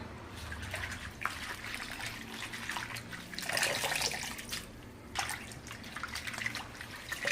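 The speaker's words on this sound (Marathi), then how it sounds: "आता याच्यावर काही फवारा वगैरे नाही आहे, अशी हलक्या हाताने धुवून काढायची." Spring onion greens are swished gently by hand in a basin of water, giving soft trickling and splashing with a few louder sloshes, close and steady, with no talking.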